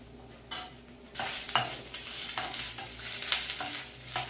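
Green chillies and grated coconut sizzle in a hot pan for sambar, with steady frying hiss and repeated stirring scrapes of a utensil against the metal, close and moderately loud, no talking.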